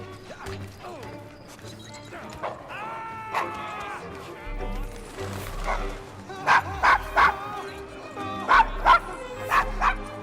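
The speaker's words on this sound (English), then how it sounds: "Is your dog quite all right?" Dog barking and whimpering in the video game Assassin's Creed Syndicate, set in a rough Victorian London street: bursts of loud yips and barks come in clusters over background city ambience and scattered game sounds.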